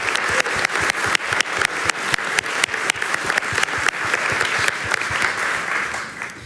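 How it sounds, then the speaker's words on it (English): Dense, steady applause from an audience at the close of a discussion event, with many hands clapping continuously for several seconds and sharper individual claps standing out near the listener, then easing slightly at the end. "And also give a big round of applause to Damiaan and Denise."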